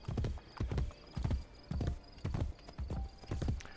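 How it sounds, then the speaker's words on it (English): A horse gallops across the Roman countryside in Assassin's Creed Brotherhood, with regular, loud hoofbeats in a quick rhythm and no talk over them. "Come on, horse, you need to run faster."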